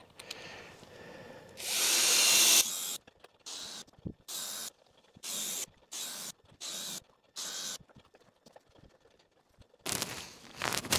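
A power drill bores peg holes into a log for a log building, heard as about eight short, loud bursts of whirring drill noise separated by brief pauses, with a longer sustained run near the start and another at the end.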